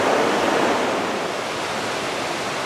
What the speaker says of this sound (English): I got Sope Creek right behind me